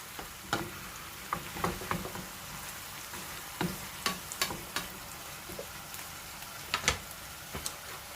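Spicy Korean-style noodles are stir-fried in a pan, giving a soft, continuous sizzle punctuated by sharp clicks and taps of a utensil against the pan.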